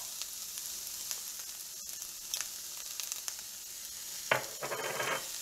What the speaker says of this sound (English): So I'm gonna put my onions like so.